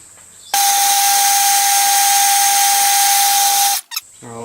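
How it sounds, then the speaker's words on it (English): Drill bit boring into the steam chest of a Stuart Turner Number 8 model mill engine, a loud steady high-pitched machine whine held for about three seconds, then stopping abruptly with a brief clunk afterward. "I'm going to try and run this drill bit all the way up to the other end"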